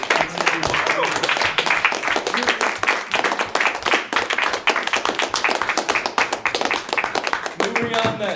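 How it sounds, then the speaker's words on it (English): Applause fills a student senate meeting, many hands clapping in a dense, steady roar that runs the whole stretch, with a voice starting to speak near the end. "So a round of applause for Nate James and the Constitution"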